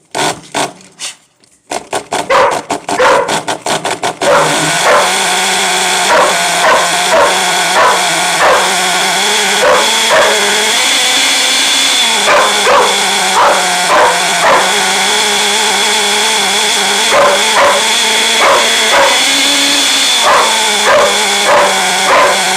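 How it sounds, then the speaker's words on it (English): A dog barks repeatedly and loudly, close by, in rapid bursts over a constant engine-like drone of a car running on its first start-up, with occasional whimpering yips. "Why are you barking in my ears, girl?"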